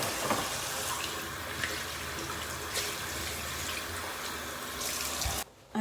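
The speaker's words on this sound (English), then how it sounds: "I'll just go and rinse it now over the sink. I'll splash my face with water." Lukewarm water runs and splashes steadily over a bathroom sink as a face is rinsed during a night skincare routine, a close, continuous wash of water with no talking.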